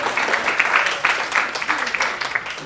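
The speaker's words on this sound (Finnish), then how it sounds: "Annetaan aplodit vielä noillekin." Applause from a church audience at a prayer gathering in Finland, a steady wash of many hands clapping, fairly loud and continuous, with some voices mixed in.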